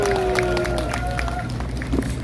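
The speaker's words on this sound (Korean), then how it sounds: "여러분 큰 박수 한번 해주시기 바랍니다" Steady applause from an audience at a Gwanghwamun rally in Seoul fills the space, with clapping and crowd noise sustained and fairly loud from start to finish.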